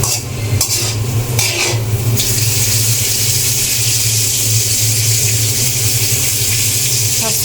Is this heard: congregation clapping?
no